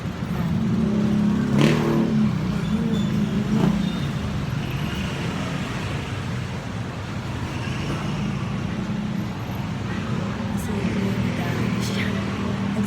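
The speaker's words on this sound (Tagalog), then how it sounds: "Mga motor." Motorcycles revving among general road traffic, with a louder surge of engine noise early on and then a steady roar of passing vehicles; a voice talks faintly over the traffic at times.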